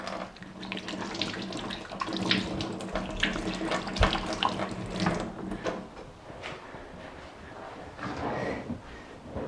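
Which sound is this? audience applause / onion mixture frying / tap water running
tap water running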